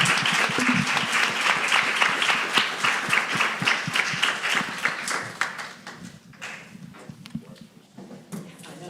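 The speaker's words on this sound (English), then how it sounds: "Please give a round of applause for this amazing." A crowd applauds loudly, the clapping dense at first, then thinning and fading toward the end.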